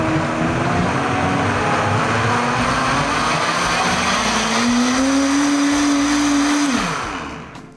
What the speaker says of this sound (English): Just blend that back up.